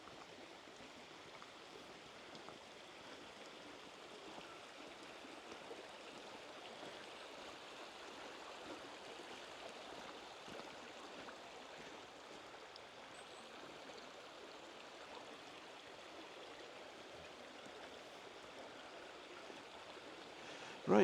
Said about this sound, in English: the stream's just down on my left. Quite a gentle stream at this point.